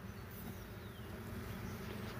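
Honeybees from a backyard hive during a nectar flow, a steady low droning hum of many insects close by, continuous and even throughout with no voices.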